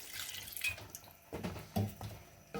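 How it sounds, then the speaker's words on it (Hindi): Water is poured into a pot of mutton karahi being cooked under pressure, giving a close, splashing, bubbling pour with irregular sloshes and drips over a few seconds. "मैं इसमें डाल रही हूँ पानी"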